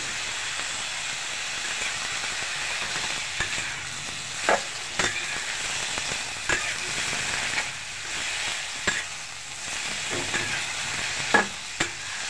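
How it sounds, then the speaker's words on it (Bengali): Grated radish fries in oil with onion paste and ginger-garlic paste, giving a continuous moderate sizzle broken by frequent sharp spatula scrapes and knocks against the pan. "এগুলো আমি এখন এটাকে ভালো করে ভেজে নেব"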